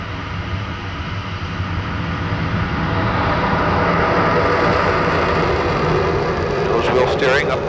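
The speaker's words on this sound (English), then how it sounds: "Full afterburner." The Lockheed SR-71 Blackbird's jet engines at full afterburner, a loud continuous roar heard from the cockpit that builds and holds, with a voice speaking over it.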